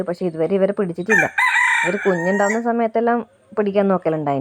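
A native rooster crows once, loud and close, among free-ranging country chickens, with someone talking before and after the call.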